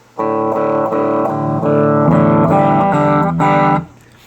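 Electric guitar chords through a small 1-watt tube amp, slightly overdriven, several strummed chords ringing in a steady sequence, then stopping.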